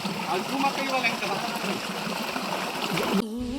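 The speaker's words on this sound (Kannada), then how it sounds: "ಇಲ್ಲಿ ನೀರು ಹರಿತಾ ಇರೋದು" A rain-swollen stream rushes steadily close by during a rainy trek, broadband and continuous, with voices faintly underneath.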